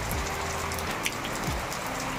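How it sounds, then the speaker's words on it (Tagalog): Steady rain falls outside in the evening, a dense, even patter heard close and continuous with no voices. "Umuulan po sa labas."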